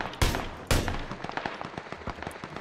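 Gunfire in the battle royale game PUBG: two loud, sharp shots up close, followed by a rapid string of quieter, distant shots crackling in quick succession.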